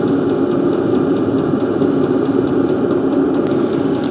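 A car engine idles steadily in winter cold with the heater running, a continuous low rumble with a faint rhythmic ticking on top, loud and close, with no talking.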